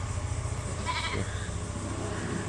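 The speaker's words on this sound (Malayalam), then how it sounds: "നല്ല അടിപൊളി അഞ്ച് ആടുകൾ" Crossbred goats bleat over a steady outdoor hum, one wavering call standing out near the middle of the short stretch.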